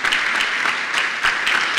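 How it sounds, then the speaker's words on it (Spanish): Church congregation claps in praise during a worship service, a dense, rhythmic round of many hands applauding steadily, close and fairly loud. "Pueden darle un aplauso de alabanza al Señor ahí donde están"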